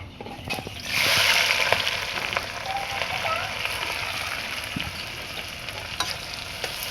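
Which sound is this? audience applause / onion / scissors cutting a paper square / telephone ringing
onion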